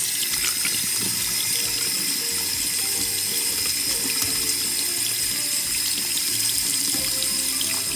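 Tap water running steadily into a sink while a toy is washed, a continuous close hiss and splash with small irregular clatters, no speech.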